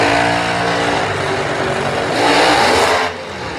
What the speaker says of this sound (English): you're going to hear it bring the RPMs up to a certain point and then roll the car into full stage